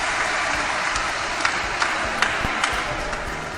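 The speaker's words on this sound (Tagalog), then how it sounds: "Palagpakan natin." A crowd outside Fatima Church greets actor Coco Martin with scattered claps that pop out sparsely over a steady murmur of people, modest in loudness.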